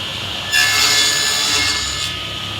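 A dado blade cuts a shoulder for a wood groove, a loud, steady rasping whine that swells for about a second and a half over a constant machine hum.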